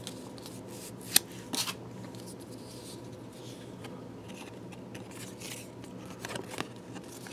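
Trading cards from a Bob Dylan mono recordings box set being handled and shuffled, soft papery flicks and rustles with a sharper snap or two, faint and close, with no talk.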